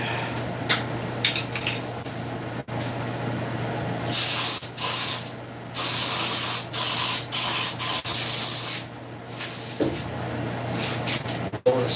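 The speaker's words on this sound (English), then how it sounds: "Brake cleaner." Brake cleaner hisses from an aerosol can in a workshop, in several loud close bursts of spraying broken by short pauses and light clatter.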